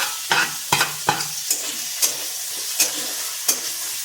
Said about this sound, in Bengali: দেখো এর মধ্যে দিয়ে দেবো এবার পেঁয়াজ